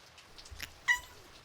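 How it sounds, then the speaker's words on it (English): A cat gives a short meow in wet, rainy conditions, a single faint cry near the middle of a quiet stretch with soft background patter and light rustling. "Isn't that Lucy's cat?"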